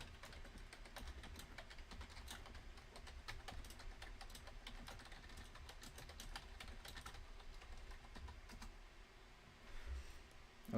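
Fingers type on a computer keyboard to write a chat message, giving quiet, fairly steady clicking and tapping that runs on without a break and sits close but faint, with no voices.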